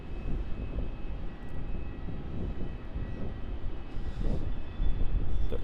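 A Jetstar Airbus A320 departs Melbourne Airport with a low, distant jet rumble that swells gradually toward the end, fairly faint but continuous.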